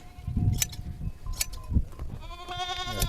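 Goats bleating during shearing, several loud, wavering bleats near at hand, with a few thuds and handling noises around them.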